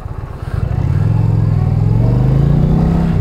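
A 2020 Indian Challenger motorcycle engine revs up under throttle, a loud, close, steady low growl that builds after a brief rough start and holds with a slowly rising pitch.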